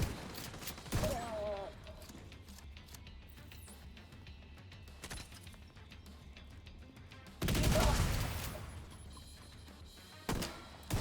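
Gunshots in a video game, sharp single cracks spread across the scene with a loud burst of rapid fire near the end, over quieter background sound and some voice.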